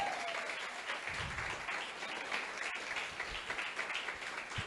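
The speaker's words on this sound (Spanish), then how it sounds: "démosle un aplauso a ellos" A church congregation applauding newcomers, soft diffuse clapping spread evenly across the room at a moderate, fairly distant level.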